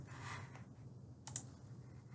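A few soft keystrokes on a computer keyboard, faint and sparse, with a small cluster of clicks near the middle and nobody talking.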